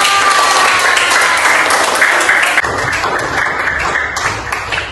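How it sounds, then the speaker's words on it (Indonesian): Classroom of fifth-grade students applauding after a group performs a Yakult drink advert, a steady dense clapping that holds loud and even for the whole stretch, with a slight drop in intensity partway through. "Iya, tepuk tangan."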